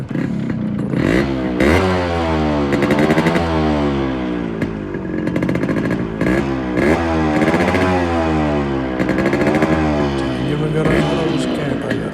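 A fully modified Yamaha RX100 two-stroke motorcycle engine running up close and loud, revving repeatedly in rising and falling bursts over a steady idle for the whole stretch, with no talk over it.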